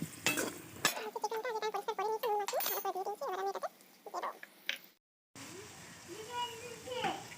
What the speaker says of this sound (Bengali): পেঁয়াজ দিয়ে দিয়েছি তেলের মধ্যে, ফ্রাই করা হয়ে গেছে। আর সাথে আমি আলু দিয়ে দিয়েছি।